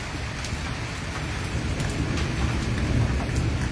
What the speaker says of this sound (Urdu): یہاں پہ دیکھیں یہ آپ کو موٹی موٹی جو بارش کی بوندیں ہیں وہ بھی اس وقت نظر آ رہی ہوں